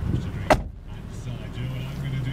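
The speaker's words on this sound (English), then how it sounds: "if I can just close the driver's door for a second" A 2009 Mercedes SLK 300 convertible's driver's door shuts with a single sharp, loud thud close by, followed by a low interior hum; a voice talks briefly before and after.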